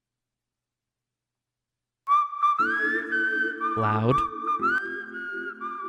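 A whistled melody opens a K-pop song, clear and bright with sliding notes, joined by backing instruments after a moment; a voice briefly speaks over it.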